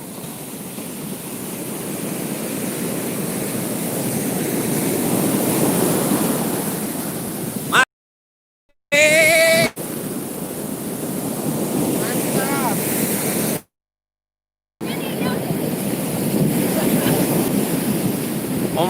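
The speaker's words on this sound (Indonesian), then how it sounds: "Ombaknya bergulung-gulung." Ocean surf rolls continuously onto Mbah Drajid beach in Yosowilangun, a broad rushing wash buffeted by wind on the microphone, with two short dropouts and a brief voice in between.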